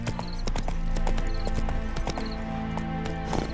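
Roach the horse trotting in The Witcher 3, hooves clip-clopping in a steady repeated rhythm over a continuous game music and ambience bed, close and clear throughout.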